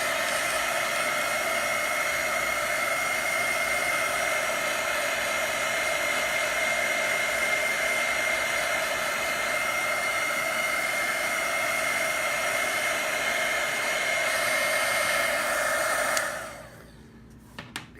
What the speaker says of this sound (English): Now I'm going to dry this with a heat gun that I have.